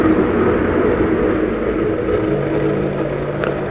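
An army-surplus M67 immersion heater runs in a dirty drum of waste vegetable oil, giving off a steady, loud, low rumbling roar with a slight shift in tone near the end.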